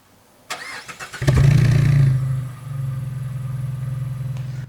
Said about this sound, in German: Und wir starten jetzt mal das Fahrzeug, damit ihr das richtig hören könnt.